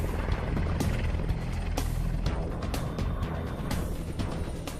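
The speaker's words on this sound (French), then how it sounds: "Un des hélicoptères les plus sophistiqués qui soit vole à son secours. Il s'agit du EH-101 d'Augusta Westland." An AgustaWestland EH-101 helicopter in flight gives a loud, steady, dense rotor and engine roar with a rhythmic thumping pulse, continuous throughout and without talk.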